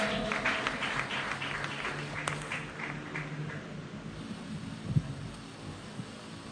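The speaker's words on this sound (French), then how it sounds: "Sous vos applaudissements, s'il vous plaît." Faint, sustained applause from the audience at a crowning gala for a Miss & Mister pageant, distant and steady with a soft wash of noise and scattered stray claps.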